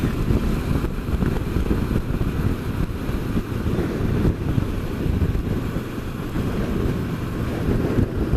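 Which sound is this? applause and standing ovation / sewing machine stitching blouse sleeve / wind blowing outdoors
wind blowing outdoors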